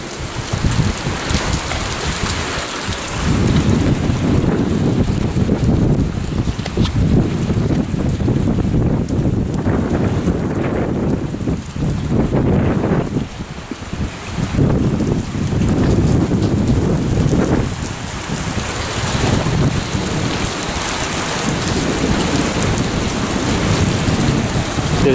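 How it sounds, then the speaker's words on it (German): Loud, steady wind buffets a car in the core of a thunderstorm, with heavy rain drumming across the full stretch and brief lulls; no voices. "Es wird echt super windig."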